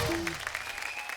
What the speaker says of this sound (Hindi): जोरदार तालियां शिखर और पृथ्वी के लिए।